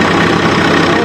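Swaraj 855 tractor driving a wheat threshing machine, a loud, steady engine drone that stays constant through the brief moment, with a voice nearby.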